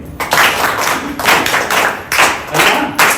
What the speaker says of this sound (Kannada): ದೇವ್ರನ್ನ ಚಪ್ಪಾಳೆ ಹೊಡೀರಿ